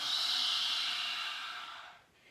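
A full, slow exhale through the nose during yoga breathing, one long close airy breath that gradually fades out.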